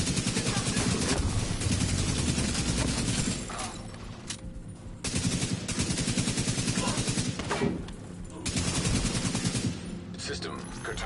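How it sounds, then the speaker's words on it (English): Sustained automatic gunfire from a firefight in The Division 2, dense and loud with rapid rattling bursts that briefly drop off twice before resuming, game effects layered throughout. "Now it wants me to shoot down at them."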